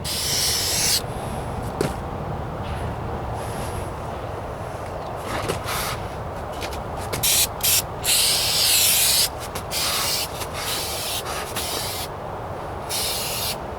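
An aerosol can sprays coating onto a Ford Ranger passenger rocker panel under repair, giving a steady loud hiss over constant background noise, with bursts of brighter spray noise near the middle.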